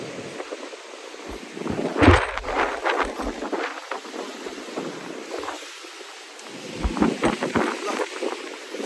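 Strong storm wind buffets the microphone outdoors in the Philippines during a storm warning, with loud rumbling gusts rising and falling throughout and a harsh peak near the start.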